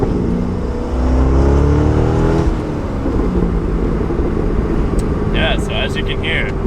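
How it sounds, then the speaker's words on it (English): C6 Corvette engine revving hard through gear shifts, with short crackling exhaust pops between shifts; loud, close and continuous. "between each shift, you can hear like one or two nice like big pops, crackles, and that is just the most satisfying thing ever."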